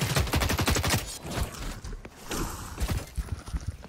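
Rapid bursts of gunfire in the video game The Cycle: Frontier crackle in quick succession, dense volleys of shots with brief pauses between them, loud and close.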